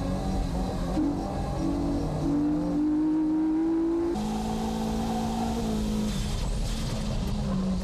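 A Nissan S15 race car at Fuji accelerates hard with a loud, close engine note. The revs climb steadily, break off at each gear change and climb again across the run, with no one talking.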